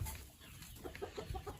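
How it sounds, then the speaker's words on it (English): A rooster on a farm with sheep and lambs, giving a few soft, faint clucks in quick succession against a quiet outdoor background. "there's a rooster riding Jenny"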